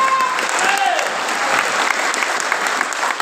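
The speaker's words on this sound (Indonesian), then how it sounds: "Tepuk tangan untuk para ketua-ketua." Sustained applause from a crowd at a political party gathering in North Sumatra, steady broadband clapping filling the whole stretch with a faint murmur of voices underneath.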